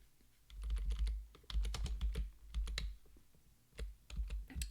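Fingers type on a computer keyboard in irregular bursts of clicky keystrokes with short pauses between runs, close and fairly quiet, no voice.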